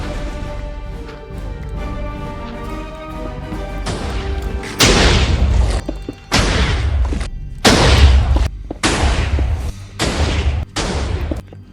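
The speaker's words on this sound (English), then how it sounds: "The sound of explosions slowly faded." Loud, repeated booming video game explosions in Minecraft in quick succession, each a heavy crash with rumbling tail, over a continuous droning background.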